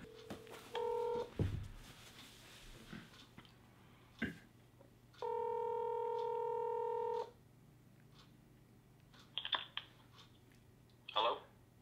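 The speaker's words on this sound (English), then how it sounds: "So we're gonna try to give him a call that Ali" Telephone keypad tones play while a call is placed: a short beep near the start, then a longer sustained two-second tone, set among quiet rustles and clicks.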